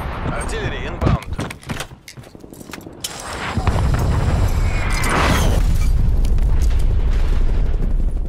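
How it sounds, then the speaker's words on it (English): Artillery strike explosions in Call of Duty Cold War, scattered impacts at first, then a heavy, sustained rumbling barrage that builds and holds loud to the end. "Artillery targeting detected. Artillery inbound."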